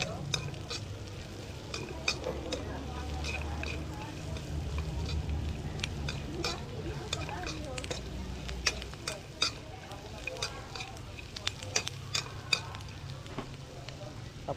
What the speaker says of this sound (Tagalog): Tapos haluin muna natin.